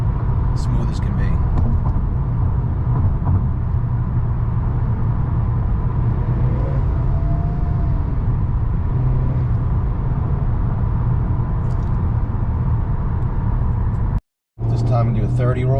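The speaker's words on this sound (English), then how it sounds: "The car just pulls nice, smooth as can be." Honda Accord 2.0T with a ten-speed automatic and Stage 3 tune cruising on a highway, a steady broadband road-and-engine drone holding throughout with a brief dropout near the end, while someone talks over it.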